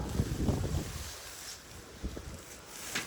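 Steady wind buffeting the microphone, a low rumbling gust that rises and falls throughout, with a faint hiss of water or open air behind it.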